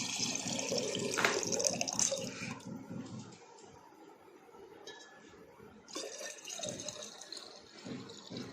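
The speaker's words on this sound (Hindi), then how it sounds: "ये आपने लोटे में पानी भरा" Water is poured into a small metal lota pot for a ritual. A gurgling fill runs for a few seconds, followed by quieter drips and light clinks in a still room.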